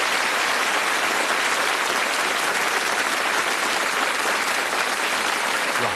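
A studio audience of a game show applauds the contestants: a loud, uniform roar of clapping from many hands, sustained evenly for the whole stretch with no voices above it.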